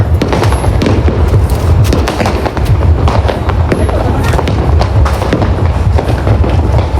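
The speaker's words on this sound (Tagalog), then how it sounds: "Fireworks, may fireworks." Repeated sharp bangs and crackles of New Year fireworks going off throughout, loud and dense, with excited voices shouting over them.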